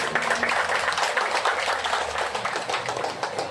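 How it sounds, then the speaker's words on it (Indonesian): Audience applause at a mosque inauguration ceremony in Lakitan Utara, a steady wash of clapping with a low hum underneath, continuous for the whole stretch. "Tepuk tangan dulu."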